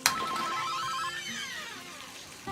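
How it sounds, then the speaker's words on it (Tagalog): A telephone ringtone chimes in a repeating electronic pattern, loud and close, sounding alone for a couple of seconds before cutting off. "Telepono mo, may tumatawag!"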